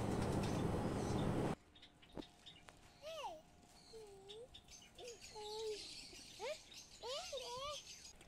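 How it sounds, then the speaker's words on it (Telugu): Colorful pigeons kept in a cage give several short, faint whistling chirps one after another, following a brief burst of loud noise at the start. "చాలా కలర్ఫుల్ పిజియన్స్ కూడా పెట్టుకున్నారు కేజీలో"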